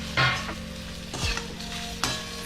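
Fried peanuts, coconut and curry leaves are stirred into chivda in a pan. A few distinct scraping stirs land over a low sizzle, close by and without talk.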